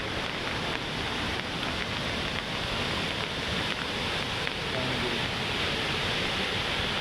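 Steady, loud roar of rushing flood water during a typhoon, filling the whole clip with constant broadband noise and no pauses.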